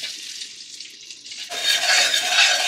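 Onion, ginger, garlic and tomato sizzle in a hot pan for a tempering, the hiss jumping louder and brighter midway as more ingredients hit the oil, with occasional stirring.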